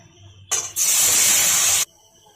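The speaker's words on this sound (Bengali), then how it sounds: "তেঁতুলটা আমি ছেঁকে নিয়েছিলাম এর মধ্যে ঢেলে দেবো" Strained tamarind poured into hot mustard oil with dried chilies, giving a sudden loud hissing sizzle in two bursts, a short one then a sustained one lasting about a second, before dropping back to quiet.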